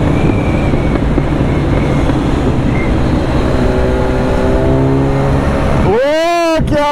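A motorcycle ride on a highway alongside a KTM RC 390 gives strong, continuous wind and engine roar, ending with a sharp rising engine whine as a bike revs hard close by.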